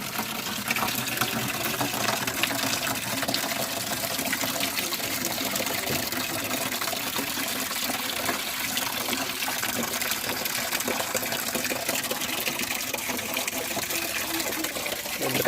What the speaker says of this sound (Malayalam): ബക്കറ്റ് മൊത്തം ഒന്ന് കഴുകി എടുക്കട്ടെ